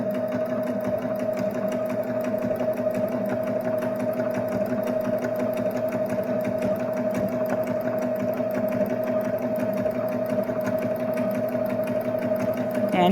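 A Baby Lock Jazz II sewing machine stitches knit fabric, such as lightweight knit or French terry. It runs steadily and loudly at close range, with a constant motor whir and a rapid needle chatter throughout.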